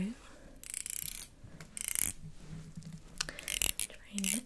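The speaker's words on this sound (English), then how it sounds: "So I'm just going to very gently just rub that in and then comb it" Hair product is rubbed into dry hair and combed through, giving soft bursts of close rubbing and raspy combing strokes with quiet whispery gaps.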